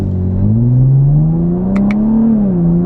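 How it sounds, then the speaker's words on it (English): A 2016 Chevrolet Camaro accelerates hard, its engine note climbing steadily with a brief break as it shifts up, loud and close from inside the cabin. "Now I'm going to do an acceleration run here in a second, but you'll hear how many times I have to upshift"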